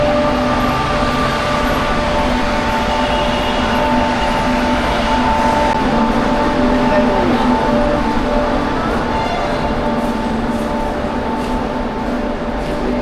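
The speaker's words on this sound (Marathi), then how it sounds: "हे बघा हे मेट्रो स्टेशन आहे वरती." A metro train at the elevated Anand Vihar station in Delhi, heard as a loud, steady rumble with a continuous drone and no break in the sound.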